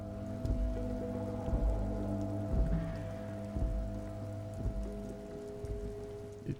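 Rain falls steadily in the detective game Disco Elysium, a soft continuous patter layered under droning ambient music with low rhythmic pulses.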